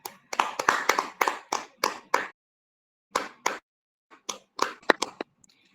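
At a prayer meeting, a run of sharp, close hand claps comes in quick bursts, pauses for a moment, then resumes with a few more separate claps.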